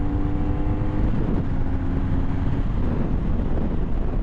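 A 2009 BMW R1200RT touring motorcycle at full throttle makes a loud, continuous engine roar blended with heavy wind rush, with no talking.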